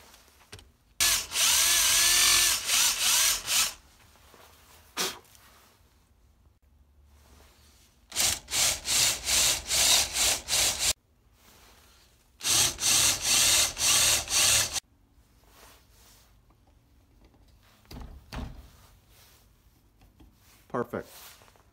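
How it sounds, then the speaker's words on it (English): A wooden gnocchi board is lightly sanded by hand with fine sandpaper in three separate spells of quick back-and-forth scratchy strokes, close and fairly loud, with quiet gaps between. "we just lightly sand it, a little bit of fine sandpaper"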